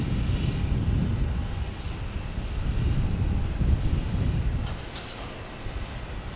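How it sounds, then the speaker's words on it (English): A United Airlines airliner bound for Newark at Boston Logan gives a steady, moderately distant jet roar, rumbling low and broad before easing slightly toward the end, with no talk. "we have United Airlines heading to Newark"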